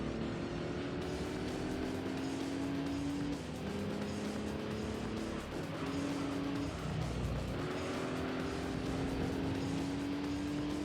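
A Pagani Zonda race car in Gran Turismo 3 roars through repeated rising engine revs with gear-change drops and occasional tire squeal, loud and continuous with no voices.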